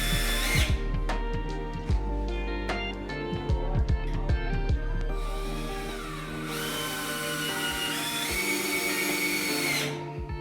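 A power drill drives screws into the boards of a wooden raised garden bed, its motor whining loud and close in repeated bursts, with sharp rising and falling pitch and a long sustained run near the end.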